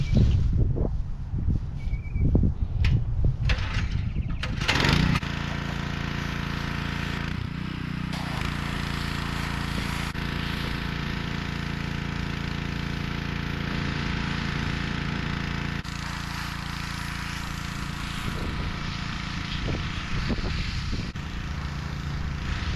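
A gas-powered pressure washer runs steadily while cleaning pasture fences outdoors, a constant engine drone holding for most of the stretch after a few seconds of clattering knocks at the start.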